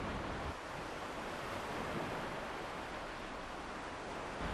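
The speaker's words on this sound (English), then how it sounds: "the sound of the sea and the beach give you that time." Sea waves wash onto a beach in a steady, broad roar of surf, with no voices, continuous and fairly loud throughout.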